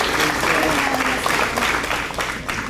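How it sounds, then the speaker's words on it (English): A school hall crowd at a high school senior awards ceremony breaks into loud, dense applause, clapping steadily and tapering slightly toward the end. "I want to give another round of applause for Mountain Telephone"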